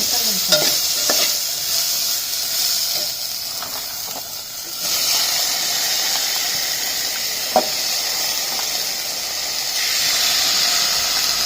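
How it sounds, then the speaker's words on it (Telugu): Washed gongura pods fry in oil in a pan, giving a steady close sizzle and hiss, with occasional spoon scrapes and clicks as they are stirred. "ఇక కడిగి పెట్టుకున్న ఈ మొత్తం ఇలా వేసుకొని ఎంతసేపు ఫ్రై చేయాలమ్మా"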